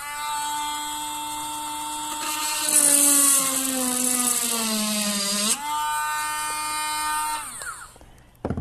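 An electric drill on high speed bores a hole, its loud motor whine dropping in pitch under load, then rising sharply as the bit frees, before winding down at the end.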